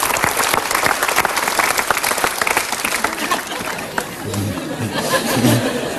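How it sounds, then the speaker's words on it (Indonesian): An audience breaks into sustained applause, many hands clapping at once with chatter mixed in, dense and fairly loud throughout before tapering slightly near the end. "Itu kita berikan tepuk tangan."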